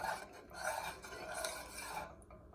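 Steady scraping and sloshing as a utensil stirs rice and water around a metal pot, continuous for a couple of seconds with no talking.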